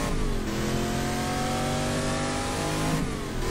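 A race car engine in the GT Legends racing game, loud and continuous, revving with rising and falling pitch as the throttle is worked through gear changes.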